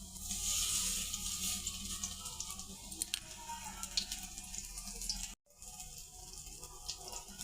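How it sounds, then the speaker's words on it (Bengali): Karela leaf fritters frying in hot oil in a wok, a soft bubbling sizzle with faint patter that drops out briefly, then resumes. "এই যে কড়াইতে তেল গরম করে একে একে বড়াগুলো ছেড়ে দিলাম।"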